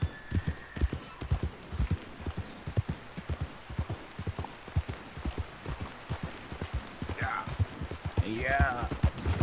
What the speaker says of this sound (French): Ouais, un cheval, ouais.